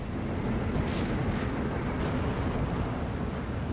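Heavy 1,000 kg aerial bombs detonating in the WW2 strategy game Steel Division 2, a dense sustained rumbling roar of blasts that stays loud and continuous throughout with no voices over it.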